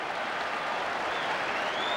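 A large football crowd at Loftus Road roars and applauds at the final whistle, a dense, loud, continuous wall of cheering with a rising whistle-like tone.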